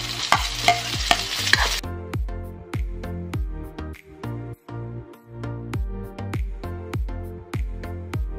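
Onions go into a pan for chicken feet tinola, a brief hiss of frying at first, then a steady run of rhythmic scraping stirs with a faint sizzle underneath.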